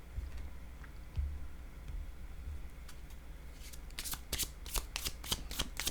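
Tarot cards are shuffled and handled, with soft taps and slides at first, then a quick run of crisp riffling flutters toward the end, close and quiet with no voice.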